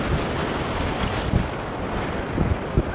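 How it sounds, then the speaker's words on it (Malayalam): Ocean waves surging and breaking on a beach, a continuous loud wash of surf with gusts of wind buffeting the microphone and a few heavier thumps as waves hit. "നല്ല തിരമാല വന്നുകൊണ്ടിരിക്കുന്നത്"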